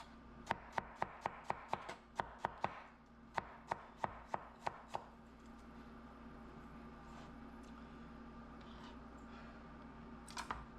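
An onion is chopped on a cutting board with a knife: about fifteen sharp, evenly spaced close knocks over five seconds, then quiet kitchen background.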